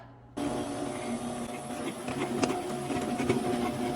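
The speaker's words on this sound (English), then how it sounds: "All right, let's blend it up." A kitchen blender switches on abruptly and whirs steadily, blending banana bread batter made with tahini, baking powder, baking soda and rolled oats; a close, continuous motor drone with slight fluctuations.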